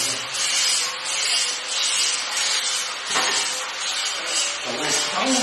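Abrasive sanding of wooden stair handrail stock makes a close, rhythmic rasping rub. Its strokes rise and fall in regular waves of about one per second, with a faint voice briefly audible underneath.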